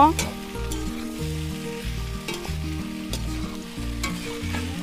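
Prawns cooking in a pan with a loud, steady sizzle and occasional stirring clicks, over a low repeating musical pattern in the background; no talking.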